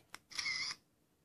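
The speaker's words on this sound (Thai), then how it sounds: "มีเสียงชัตเตอร์ด้วย นี่คือถ่ายรูปนะครับ" An SJ4000 action camera takes a photo: a soft click followed by a brief electronic shutter sound, close and quiet, alone.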